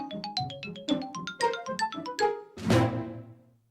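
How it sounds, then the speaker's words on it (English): Nintendo GameCube console startup chime: a rapid run of bright, bouncy synth notes as little cubes assemble into the logo, ending in a loud, full sustained chord that fades away, with no voices. "the sound you hear when you first press the power button and you hear the little GameCubes lining up into a giant GameCube logo"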